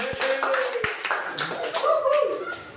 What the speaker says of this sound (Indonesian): Tepuk tangan lagi buat kelompok 2.